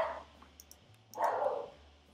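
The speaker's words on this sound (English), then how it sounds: "that's just my dogs in the background" Dogs barking in the background of a home setting, a couple of short muffled bursts at moderate distance, with a steady low hum underneath.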